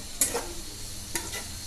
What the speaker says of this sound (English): While frying, we should not close the lid of the frying pan, otherwise onions may lose their water content.